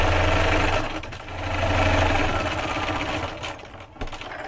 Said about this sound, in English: we're just going to sew it with our quilting foot